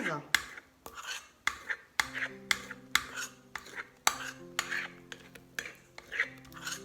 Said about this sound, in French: avec une cuillère, on enlève le gaz